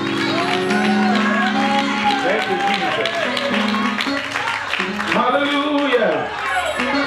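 Church congregation shouting praise and calling out during a service, an ongoing wash of raised voices and crowd noise under a preacher's sung and spoken delivery, loud and continuous throughout.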